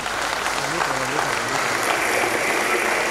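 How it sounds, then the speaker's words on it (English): Applause from an audience at a foundation presentation event, steady and fairly dense, with a voice speaking over it. "please, a special round of applause for his wife."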